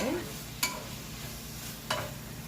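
Seasoned ground beef for Jamaican beef patties cooks down in a pan with a steady, soft sizzle, broken by two sharp knocks or scrapes of a stirring utensil.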